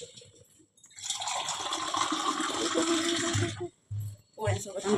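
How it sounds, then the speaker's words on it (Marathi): Water is poured into a pressure cooker to rinse it, a splashing gush that runs for a few seconds, then stops and starts in short bursts, with speech faintly underneath. "अजून थोडंसं पाणी टाकू, कुकर धुवून घेऊ जरा."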